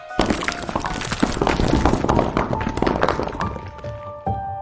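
Part of a bungalow comes crashing down as a horror sound effect: loud, dense cracking, breaking and thudding debris falls continuously for several seconds, then tapers off with scattered clatters and ringing tones.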